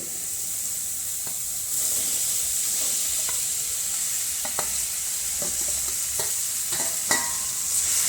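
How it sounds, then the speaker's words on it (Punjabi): Radish pods, potatoes and peas sizzle and fry in hot masala, a steady loud hiss with occasional stirring clicks and scrapes throughout. "ਮਸਾਲੇ ਦੇ ਵਿੱਚ ਹੁਣ ਆਪਾਂ ਮੂੰਗਰੇ ਆਲੂ ਮਟਰਾਂ ਨੂੰ ਪਾ ਦੇਵਾਂਗੇ"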